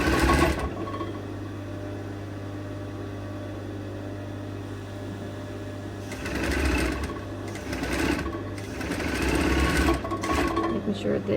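A sewing machine stitches a 1 cm sleeve seam along a gathering line, its steady motor hum running throughout and growing louder in bursts toward the end, under light talk.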